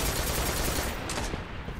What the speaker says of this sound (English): This motherfucker hit me with an auto rifle.